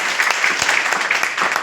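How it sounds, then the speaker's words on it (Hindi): An audience at a DXN motivational event in Nepal claps loudly in a dense, steady burst of applause. The clapping is close and continuous and does not fade. "प्लीज उनके लिए एक जोरदार ताली"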